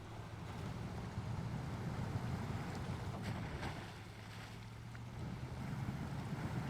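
A truck in the SnowRunner video game ploughing through water: a steady low engine drone under a broad, continuous wash of splashing and rushing water, unbroken throughout and heard alone without talk.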